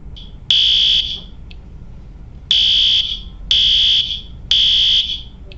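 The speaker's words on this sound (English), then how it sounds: "That's what the evacuation alarm sounds like." Facility evacuation fire alarm sounding loud and close in four steady electronic tones, the first and last few about half a second to a second long, separated by silent gaps with only low background hum.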